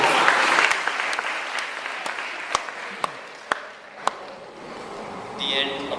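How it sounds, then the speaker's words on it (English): An audience applauds at the end of a talk, with scattered claps growing thinner and more separate, a few sharp individual claps standing out. A voice speaks near the end. "The end. Applause."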